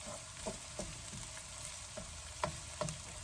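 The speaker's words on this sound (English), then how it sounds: "Once the onions start to brown and it's a little bit crispy" Onions fry in a pan for beef dendeng, a steady crackling sizzle with a few louder pops and stirring clicks, close and alone.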